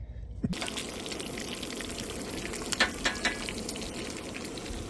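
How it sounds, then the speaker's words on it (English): Bacon and eggs sizzle in a pan at a camp breakfast, a steady close crackling fry with a few scraping clinks over it, starting abruptly after a short quiet moment. "Cooking breakfast. Bacon. Got the eggs coming along."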